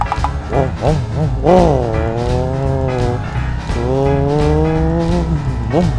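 A motorcycle engine revs loudly and repeatedly, pitch rising and falling in strong surges close by, with a brief voice underneath.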